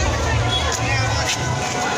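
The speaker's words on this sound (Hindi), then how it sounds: "बहुत ज़्यादा भीड़ है संगवारी में।" A dense crowd of people mills about at a busy fair, their steady murmur of babble and chatter filling the air, with close voices talking over the hubbub.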